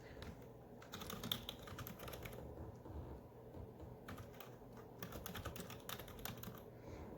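Quiet clicking of typing on a computer keyboard, with clusters of quick key taps separated by short pauses, close and soft, with no speech.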